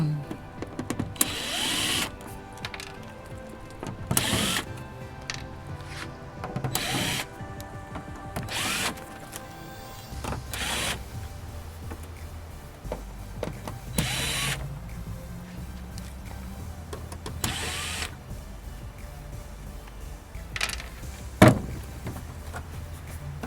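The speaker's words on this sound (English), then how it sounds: "I'm going to take the rest of the screws out." Screws being driven out of an LED light fixture with a power drill, giving repeated short whirring bursts of the motor, close and fairly loud, with clicks and handling noises in the pauses between them; no talking.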